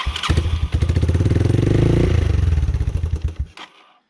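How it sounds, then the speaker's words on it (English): A 1986 Yamaha Moto4 YFM200 DX shaft-drive ATV runs on choke with a loud, close, lumpy putter, then its pulses sag and it abruptly dies, leaving quiet. "It was running on choke, and it just whoomp, came down and died."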